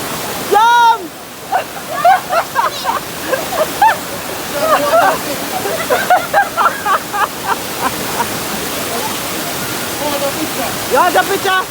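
Countryside river rushing in a steady broadband wash close by, with people talking and calling out excitedly over the flowing water throughout.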